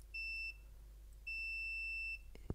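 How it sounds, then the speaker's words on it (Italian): A multimeter set to diode mode beeps while testing continuity on a Philips HTS5110 home theater board: two steady electronic tones, one short and one longer, clear and close, followed by a faint clicking of probes. "quindi conduce e si sente anche il beep"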